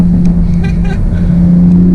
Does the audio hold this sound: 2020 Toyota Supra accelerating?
yes